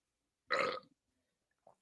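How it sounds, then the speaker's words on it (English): One loud, close burp from a man lasts about half a second, with near silence before and after and a faint small sound trailing at the end. "I really do have the burps right now"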